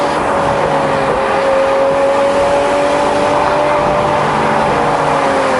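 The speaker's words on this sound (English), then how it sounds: "What a sound that the Porsche makes. It's a beautiful sound." A Porsche engine runs steadily and loudly close by, its sustained tonal drone holding an even pitch that drifts slightly upward, with no talking over it.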